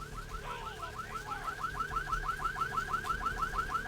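Car alarm in Vampire: The Masquerade – Bloodlines, near a parking garage, wailing in a steady, fast repeating warble throughout, fairly loud over low background hum.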